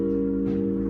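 Piano sounding a drop 2 diminished seventh chord voicing, one sustained chord held and ringing close and clear, with no talking.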